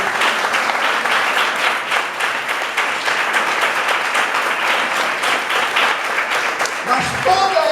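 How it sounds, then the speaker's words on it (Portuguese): A church congregation claps together in sustained, loud applause that goes on for several seconds, with a voice coming in just as the clapping fades at the end. "Você pode aplaudir o nome do Senhor"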